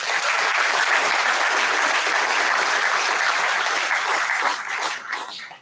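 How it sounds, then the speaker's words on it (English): An audience at a community college commencement ceremony applauds loudly, a dense, even wash of clapping that holds steady and then tapers off at the end. "Give yourselves a round of applause."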